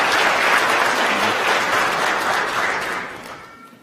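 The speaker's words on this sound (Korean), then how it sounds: "여러분들 건강하게 잘 다녀올 수 있도록 박수 부탁드리겠습니다." Sustained applause from a church congregation during a Christmas Sunday service, a dense steady clatter of many hands that tapers off toward the end.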